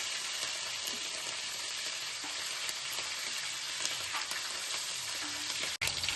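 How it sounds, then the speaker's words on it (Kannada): Green chillies fry in hot oil alongside lentils in a pan, a steady, crackling sizzle that stays even and moderately loud throughout, with a brief dropout near the end. "ಗ್ರೀನ್ ಚಿಲ್ಲಿ ಫ್ರೈ ಆಗುತ್ತೆ."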